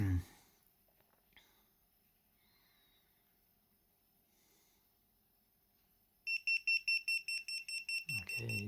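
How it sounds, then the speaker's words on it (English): An Arduino-built OLED desk clock's alarm goes off after a near-silent pause, sounding a steady run of sharp, evenly spaced electronic beeps up close, with a voice briefly at the start and end. "So in less than 20 seconds the alarm will go off."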